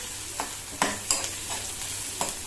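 A steady sizzle of onions and potatoes frying in a pan on low flame, broken by a few scraping stirs of a utensil at irregular intervals, close and even.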